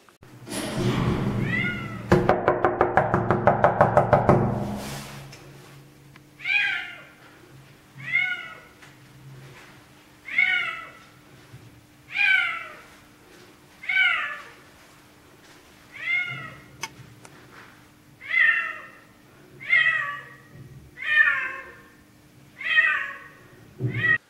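A cat shut inside an apartment meows loudly and insistently, about a dozen drawn-out cries at a steady pace, heard close after a brief burst of noisy rumble at the start.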